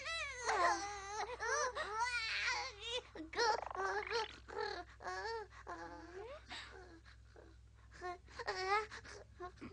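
A baby cries loudly in long, wailing bursts with brief breaks between them, close and piercing, with no talking.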